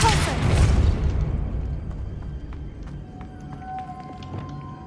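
Depulso spell cast in Hogwarts Legacy inside a witch's tomb: a loud booming burst at the start that fades into a rumbling decay, followed by quiet ambient game sounds.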